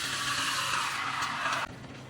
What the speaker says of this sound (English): Place steam wands in pitchers and steam for a few seconds.